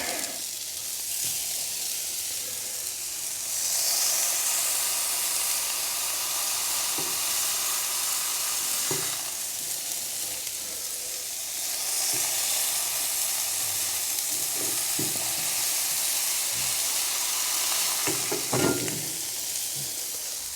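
Chicken burger patties sizzle steadily on a hot griddle while being smashed flat, a continuous loud hiss with brief swells and occasional scraping clicks, no voices.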